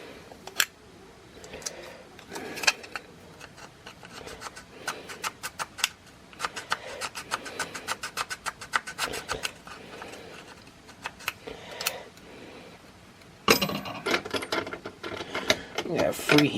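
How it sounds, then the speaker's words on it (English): Hand filing during cleanup work on a Sega Nomad battery pack build at a workbench: irregular scraping strokes in quick bursts, close and moderately loud, with a denser flurry near the end. "Doing a little cleanup work with the file."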